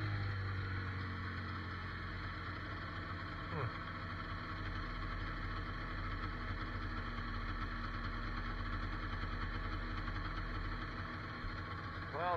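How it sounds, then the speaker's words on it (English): A snowmobile warming up outdoors idles a little high, its engine keeping a steady, even drone with a low throb close by, unchanged for the whole stretch. "Oh, she's still idling a little high though."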